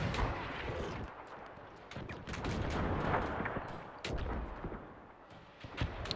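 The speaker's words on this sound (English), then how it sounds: "Swedish machine gun almost got me there." A Swedish machine gun fires in the WW1 battle game Between Empires, giving scattered sharp cracks and bursts at moderate distance over a rumbling battlefield, fairly quiet overall.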